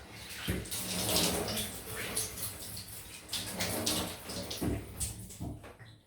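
Tap water running steadily into a sink while rinsing after a shave with a King C Gillette razor, a close continuous splashing rush with small surges as hands move through the stream.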